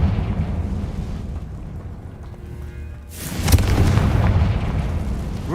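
In Hogwarts Legacy, a Confringo spell sets off an explosion: a sudden deep boom that swells out of a low rumble and fades into a rolling, echoing roar, with no voices over it.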